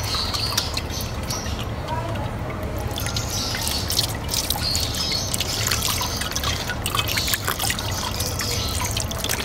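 Tap water runs and trickles steadily while wet multani mitti clay is rinsed and smoothed by hand, a close, continuous splashing and dripping wash that lasts throughout.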